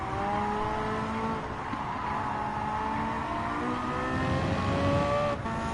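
A Porsche 918 race car in Gran Turismo 7 revs steadily and climbs in pitch through gear changes, with some tire noise, loud and continuous with no talk.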